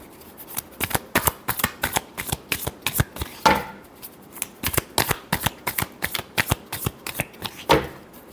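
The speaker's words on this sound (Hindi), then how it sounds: "last shuffle" Tarot cards are shuffled by hand in quick repeated riffles, a steady rhythm of crisp snapping bursts, close and loud with no other sound.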